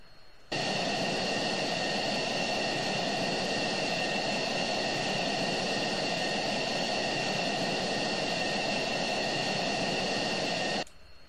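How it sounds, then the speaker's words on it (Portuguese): A jet engine spooling up during a startup in the Falcon BMS flight simulator, a loud, steady roar with a high whine that switches on abruptly, holds constant for about ten seconds, then cuts off sharply. "CBU 105, estou dando a partida na aeronave aqui."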